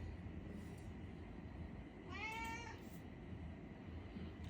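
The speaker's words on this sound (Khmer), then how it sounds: "ឥឡូវឲ្យវាម៉ែវឲ្យអស់ចិត្តសិន" A cat gives one clear, drawn-out meow at night, fairly close, over a low steady background rumble.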